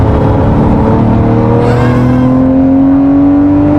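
Lamborghini Murcielago LP640 accelerating on an open highway, a loud close engine roar rising steadily in pitch as it pulls through the revs, with no talking.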